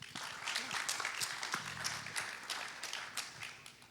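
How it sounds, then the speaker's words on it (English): Audience applause follows a conference panel introduction at a Bitcoin event, with a faint, distant wash of steady clapping filling the room and some voices mixed in underneath. "Give them a big round of applause."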